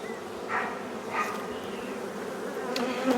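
Honey bees buzz steadily around a hive, a dense droning hum with individual insects zipping close by now and then.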